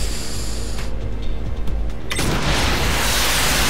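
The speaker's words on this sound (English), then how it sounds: "Explosions!" A loud explosion in the video game Saints Row The Third erupts at about two seconds and becomes a sustained, roaring broadband rumble after a stretch of busy game noise.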